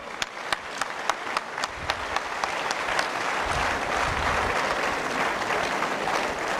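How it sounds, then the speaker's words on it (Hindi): Clapping from a gathered crowd at a Bharat Swabhiman movement meeting opens with a few sharp, spaced claps, then swells into steady, moderately distant applause that carries to the end. "एक बार इनके लिए तालियां बजाओ भाई जोरदार"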